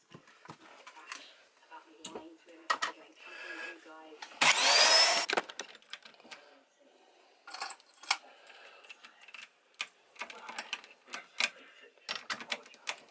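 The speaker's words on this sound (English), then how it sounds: "So, drilling out the holes." A power drill whines loudly in one burst of about a second, drilling holes in wood, with scattered clicks, handling knocks, and a voice talking around it.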